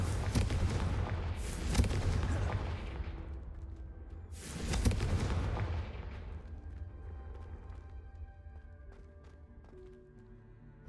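In Hogwarts Legacy, the Confringo explosive spell sets off two heavy, booming blasts a few seconds apart, each bursting loud and close and then rumbling away into a long fading tail, with no talk over them.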